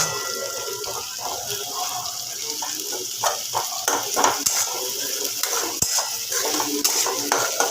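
Chicken curry for a thin chicken jhol being sautéed and stirred in a pan with spice water, with a continuous sizzling hiss and repeated scraping and clinking of a utensil against the pan, growing busier toward the end.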